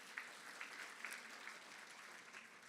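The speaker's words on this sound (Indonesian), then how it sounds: "tepuk tangan dulu untuk Atomy Psyllium Husk." Audience applause for Atomy Psyllium Husk at a product testimony event, a faint, steady wash of clapping with a few sharper claps standing out, continuing evenly throughout.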